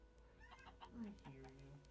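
A pet cat meows a few short times at close range on a farm with chickens, the calls mixed with faint background clucking and a person speaking.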